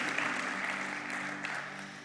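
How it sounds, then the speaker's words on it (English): Applause from an audience at a conference plenary session, a steady, moderately quiet wash of clapping held for about two seconds over a faint low hum. "Give her a big round of applause."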